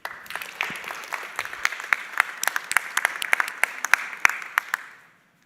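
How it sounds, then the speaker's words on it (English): A conference audience at a climate event applauds as a speaker comes on stage: scattered, fairly close hand claps over a soft wash of clapping, loosely rhythmic, tapering and stopping near the end. "let's give her a good round of applause"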